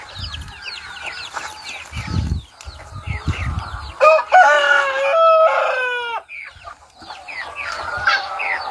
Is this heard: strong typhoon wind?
no